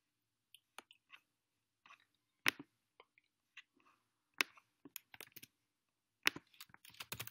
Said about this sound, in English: I'm sorry for the clicking noises.